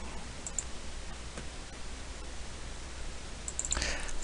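A computer mouse gives a few sparse, faint clicks in a quiet room, spaced well apart, with a slightly louder cluster near the end.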